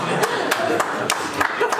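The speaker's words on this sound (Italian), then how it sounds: "L'ingegnere che sta applaudendo sicuro." A few people clap in a studio with sparse, uneven claps, and voices chatter and laugh lightly underneath.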